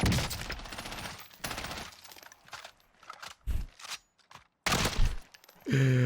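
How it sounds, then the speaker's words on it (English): Bursts of rapid gunfire in the video game Warzone crackle in uneven volleys with short gaps between them, ending with a brief rising electronic tone. "You can hear the gunshots and everything."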